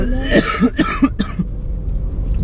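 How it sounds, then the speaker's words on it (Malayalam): A person coughs several times in a quick, rough burst, then it trails off into quiet background rumble. "ചുമയിട്ട് പോകൂല"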